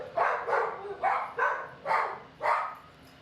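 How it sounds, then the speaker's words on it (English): Dogs barking indoors, six short loud barks in an uneven rhythm, close and clear with no talk over them. "Hey, no barking."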